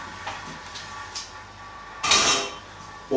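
A second frying pan set down over another pan while an egg and rice omelette cooks, giving a short clattering metallic contact with a brief scrape, close and moderately loud against quiet kitchen background.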